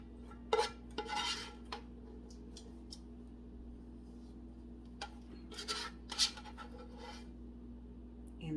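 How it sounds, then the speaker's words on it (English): Metal pot and utensils clinking in a kitchen while making lasagna, several sharp clanks and scrapes spread over a quiet steady hum, close and with no talk. "Which means I'm going to lift up this pot."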